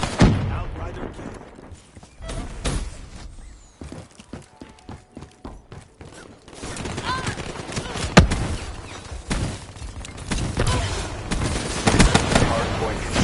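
Gunfire bursts in Call of Duty Black Ops 3 multiplayer, a mix of rapid rattling shots and single cracks, some near and some distant, running through the whole stretch with game voice callouts.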